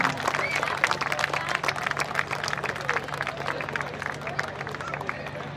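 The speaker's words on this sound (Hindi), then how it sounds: "जोरदार तालियां।" Loud applause from an audience at a regiment raising day ceremony in Dehradun, sustained dense clapping with crowd murmur running through the whole stretch, not fading.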